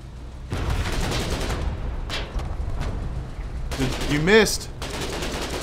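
Gunfire from combat in the war game Foxhole, a dense ongoing fusillade of shots and booms with a louder burst near the end, under urgent talk.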